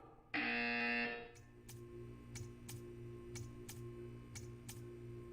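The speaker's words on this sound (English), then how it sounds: "You will hear a buzzer." A loud sustained electronic buzzer tone in the video game Portal 2 sounds for about a second, followed by a series of regular clicks over a low steady hum.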